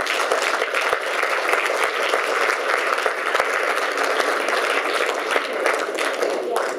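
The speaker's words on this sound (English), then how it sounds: "Let's give another round of applause for" A crowd at a political convention dinner applauds, with dense, steady clapping from many people that holds at an even level throughout.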